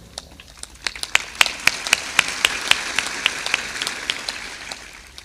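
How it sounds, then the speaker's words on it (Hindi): Audience at a spiritual satsang discourse clapping steadily, a dense patter of many hands with sharper individual claps standing out, swelling in the middle and tapering off toward the end, with no speech over it. "खूब जोर से ताली बजाया करो।"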